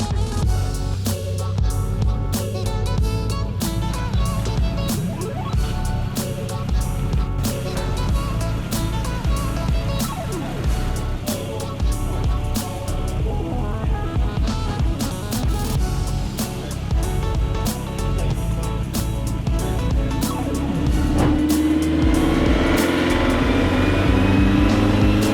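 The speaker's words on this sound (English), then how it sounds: "today on the dyno we've got this Renault Clio Sport in for a dyno test" A Renault Clio Sport engine drones steadily on a dyno, holding a dense, loud tone throughout with rising revs near the end.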